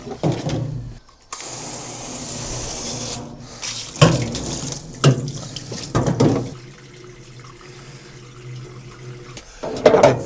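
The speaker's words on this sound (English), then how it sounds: "I'll fill it with water first and make sure it still works." Water running and splashing as a vapor blasting cabinet is filled before degreasing, a steady hiss with intermittent sloshes and bumps from work on Triumph T140V crankcases.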